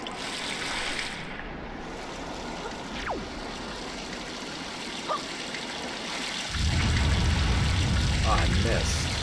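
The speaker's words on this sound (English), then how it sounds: "And then we're going to water a bomb flower." Watering a bomb flower in a Zelda game gives a trickling, splashing water sound that swells into a steady pour near the end, with faint in-game blips and a voice underneath.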